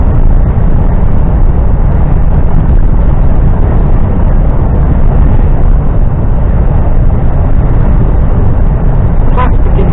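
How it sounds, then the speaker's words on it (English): Loud, steady roaring rumble of wind buffeting the microphone, continuous and dense throughout with no breaks. "it's windy here."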